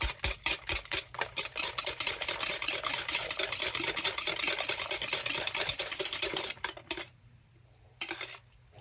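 A spoon scrapes and knocks around a bowl while stirring carrot cake batter with sugar, a close, loud run of rhythmic strokes that continue steadily, pause briefly near the end, then return once.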